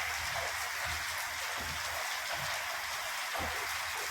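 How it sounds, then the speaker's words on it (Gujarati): Heavy rain falls steadily, a dense, even wash of drops on surfaces, moderately quiet and continuous with no voices. "ધોધમાર વરસાદ આવે બાકી"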